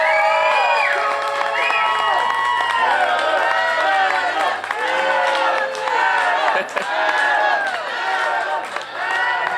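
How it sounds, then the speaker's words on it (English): An excited crowd cheers at an election night party at Hard Knocks, with continuous shouting and whooping voices filling the room, loud and sustained throughout, and people talking amid the noise. "Obviously, you can see how excited the crowd is here at Hard Knocks."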